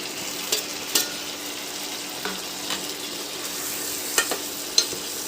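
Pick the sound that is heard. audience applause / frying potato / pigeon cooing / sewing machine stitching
frying potato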